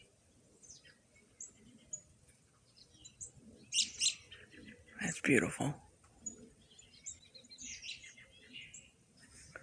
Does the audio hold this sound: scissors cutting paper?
no